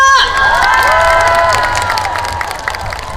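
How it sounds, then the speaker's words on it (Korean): A large outdoor audience in Pohang cheers and claps after a trot singer's celebratory concert set, loud shouts and high calls over dense applause that tapers slightly toward the end. "즐겁게 보셨다면 박수 한 번 더 크게 부탁드릴게요"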